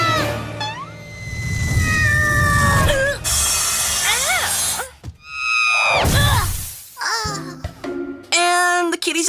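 A cartoon kitty meows in a rising, wavering voice amid animated dialogue and shouting, several high mewing calls scattered through the excited talk.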